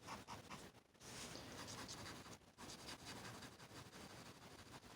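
Colored pencil shading on paper gives a soft, continuous scratchy rasp in close, quiet strokes, broken by two short pauses as the pencil lifts, with no talking.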